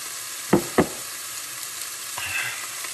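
Meat sizzles quietly on a grill in a soft, steady hiss, broken by two sharp clicks early on and a faint scrape later, with no voices.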